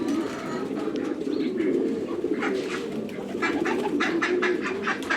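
Many pigeons on a pigeon farm in Qatar coo continuously as a dense, busy chorus, with scattered wing flutters and chirps throughout.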